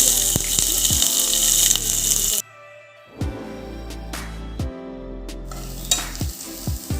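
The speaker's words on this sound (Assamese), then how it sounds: "তেল গৰম হৈছে, অকণমান পাঁচফোৰণ দি দিছোঁ।" Panch phoron spices hit hot oil with a loud, bright sizzle that cuts off abruptly, followed by quieter crackling and several sharp metallic clinks of stirring against the pan.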